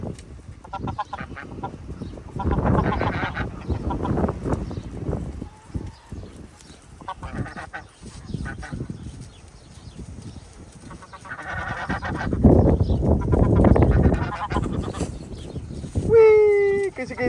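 A bird honks and squawks harshly in repeated loud bursts close by, mixed with rustling and handling noise, while a person talks over it.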